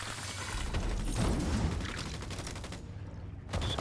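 Gunfire in the shooter game Fortnite: quick bursts of shots crackle in rapid clusters at moderate loudness, tailing off near the end before another shot.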